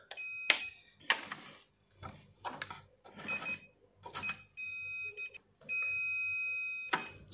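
Multimeter continuity beeps while testing the cable of an electric steam iron, sharp steady electronic tones sounding in short bursts and one longer hold, quiet and close among faint handling clicks.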